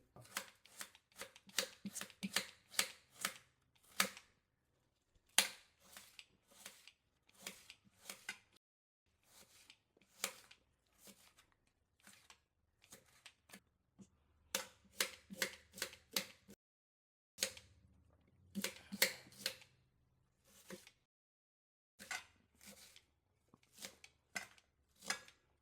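A knife chops onions finely on a board in a home kitchen, quick runs of crisp tapping strokes broken by short pauses, close and fairly quiet, with no talking.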